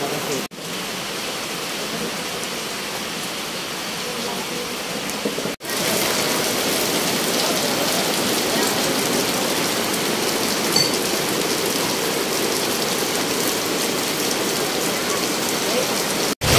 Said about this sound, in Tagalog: inabutan kami ng ulan